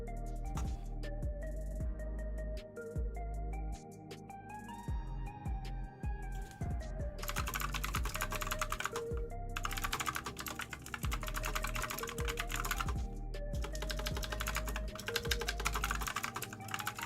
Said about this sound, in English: Lightning typing?